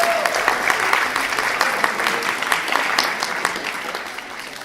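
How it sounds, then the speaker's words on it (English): An audience gives a round of applause for a finalist at a school reading event, a brisk, moderately loud burst of clapping that tapers slightly toward the end. "After each one, I would love for you to give a round of applause."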